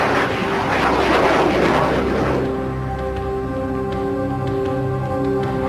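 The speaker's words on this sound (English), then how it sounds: "scramble a pair of F-16 fighter jets armed with missiles" A pair of F-16 fighter jets roars steadily overhead, with a dense, rushing engine noise that fades to a thinner, even drone as they move off.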